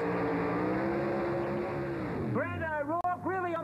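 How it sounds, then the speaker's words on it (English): A nitro funny car doing a big burnout at a drag race, with a loud sustained engine roar that drops off into sharp, rising revs. "Brad O'Rourke really on the noise, and what a big burnout."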